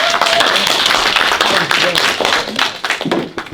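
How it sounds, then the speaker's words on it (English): An audience claps for a presenter during a Black History Month talk on famous inventors, a dense patter of many hands close by, steady and then thinning toward the end. "let's give Ben a nice round of applause"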